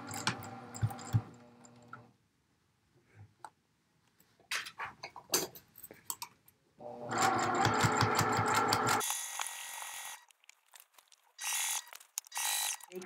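Sewing machine stitching a seam on a scrub cap, several bursts of rapid whirring stitching separated by pauses and small handling clicks, close and clear, with a long steady run in the middle.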